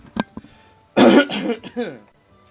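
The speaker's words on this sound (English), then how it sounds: "had to clear my throat because, my God, not good right now." A single person clears their throat once, loud and close, with a rough gravelly rasp lasting about a second, preceded by a couple of small clicks and breaths and followed by a softer trailing grunt.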